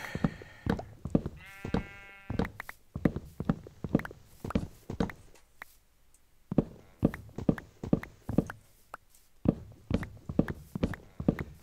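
Horses in a video game walk into a pen, hooves clopping in a steady, close, repeated rhythm for the whole stretch, with a short bleating animal call early on and a brief quieter pause midway.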